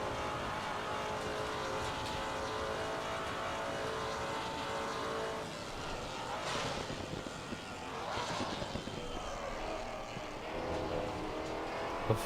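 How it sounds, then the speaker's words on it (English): A Maserati race car in Assetto Corsa Competizione roars flat-out down the straight at Imola, a sustained loud engine drone with rising and shifting pitch throughout. "Maserati down the straight here."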